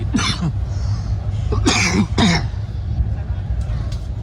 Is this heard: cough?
yes